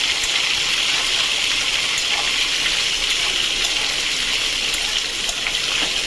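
Tomato and ginger frying in a pan, giving off a steady, loud, dense hiss that runs unbroken throughout with no talk.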